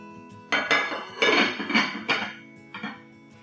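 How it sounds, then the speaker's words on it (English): Meat marinade of curd and salt gets mixed in a bowl, a handful of close clinks and scraping knocks from a utensil against the dish in short bursts, no voices. "Let's mix all these ingredients together and marinate the meat for at least half an hour."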